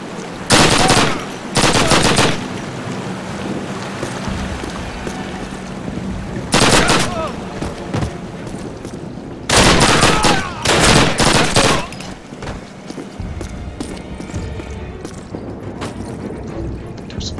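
Machine gun fire in a Soviet mission of a Call of Duty game comes in several loud sustained bursts separated by short lulls of rumbling battlefield ambience.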